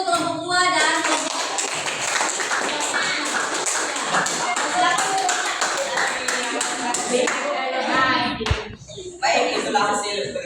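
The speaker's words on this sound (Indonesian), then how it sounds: "beri aplaus dulu untuk kelompok dua" Classroom applause for a student presentation group, many hands clapping steadily for about eight seconds, loud and close, with children's voices mixed in before the clapping tapers off.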